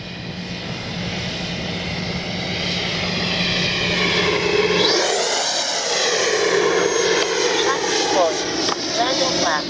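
An FMS Avanti S 90mm EDF RC jet whooshes past with a loud, high fan whine that swells and shifts in pitch as it flies by, while wind noise and voices are heard.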